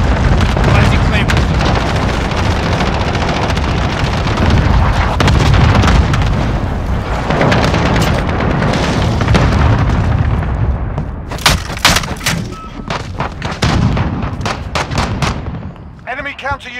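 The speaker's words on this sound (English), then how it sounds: "Cluster strike, go for launch." Cluster strike explosions in the video game Call of Duty: Modern Warfare, a long, loud roar of overlapping blasts and rumbling booms, then several sharp separate bangs and shots near the end, with game voices talking over it.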